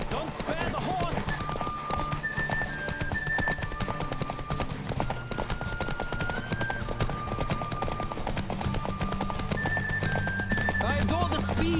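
Rapid, continuous hoofbeats of a galloping horse in The Witcher 3 video game, close and driving throughout, layered with game music and a snort or whinny near the end.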